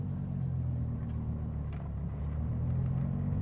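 A 2014 Dodge Viper's engine gives a steady, loud, low rumble in first gear, close by and continuous throughout with no talking.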